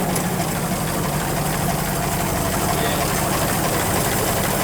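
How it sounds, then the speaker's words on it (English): Engine of a classic car idling low with a knock, a steady rumbling drone close by, with voices faintly under it. "I wish it didn't have that knock."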